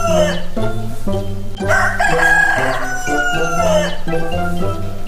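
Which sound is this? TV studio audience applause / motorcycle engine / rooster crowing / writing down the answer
rooster crowing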